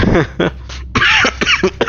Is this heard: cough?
yes